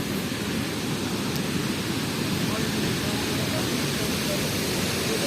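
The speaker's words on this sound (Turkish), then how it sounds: "Şelalemizin sesi gürül gürül" The Kernek waterfall in Malatya roars in a dense, steady rush of falling water that fills the whole clip at close range, with no break in the sound.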